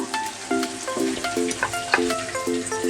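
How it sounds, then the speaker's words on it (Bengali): Spices crackle and sizzle as they are sautéed with cauliflower and potatoes, with busy stirring scrapes throughout. A melodic tune plays over the cooking. "মশলা দেওয়ার পরে আমি একটু ভালো করে কষিয়ে নেব।"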